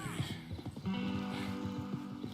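Arthur's horse in Red Dead Redemption 2 moves at a rhythmic, steady pace with repeated hoof thuds, and a whinny cuts in partway through. People talk over the hooves.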